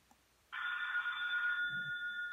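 A Sanyo RL 4920 2G bar phone plays its antique rotary-phone ringtone, a continuous electronic bell trill that starts abruptly after a short silence and rings loud and close with no talk.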